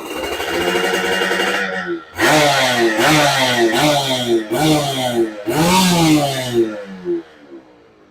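A Yamaha F1ZR motorcycle engine idles, then revs hard in a series of rising, roaring throttle blips before dropping back to a low rumble; loud and close.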